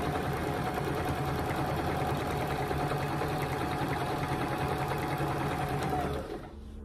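A sewing machine runs continuously while stitching half square triangle quilt pieces at a quarter inch seam, a loud, even, close whir with fine rapid needle rhythm that eases off just before the end.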